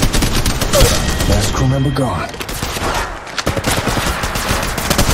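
Rapid gunfire in Apex Legends Mobile runs as loud, dense bursts and rattling volleys, with a voice speaking briefly over the shooting.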